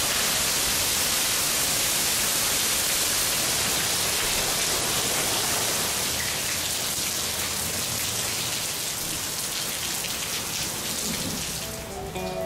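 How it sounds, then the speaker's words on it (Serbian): Heavy rain from a cloudburst in the Mojave Desert pours in a dense, unbroken wash of noise that stays loud and even throughout. "to je provala oblaka."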